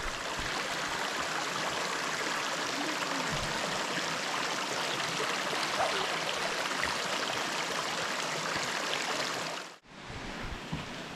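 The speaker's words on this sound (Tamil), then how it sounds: "அங்கே வந்து குட்டி வாட்டர் ஃபால்ஸ் மாரி இருக்குது" A small waterfall at the Aare waterfalls in Andhra Pradesh, near Chennai, gives off a steady, close rush of flowing water that holds evenly before briefly dipping near the end.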